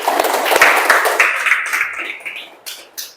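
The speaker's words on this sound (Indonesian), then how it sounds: "tepuk tangan untuk teman-temannya" Classmates clap in a classroom for fellow students after a presentation, a steady, fairly loud patter of hands that gradually thins out into a few scattered claps.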